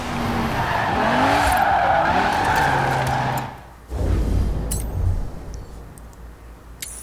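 A 2009 Lexus IS-F drifts in the video game Forza Horizon 4, its engine revving loudly under screeching tires for several seconds before the squeal cuts off, leaving a lower rumble and a few light clinks.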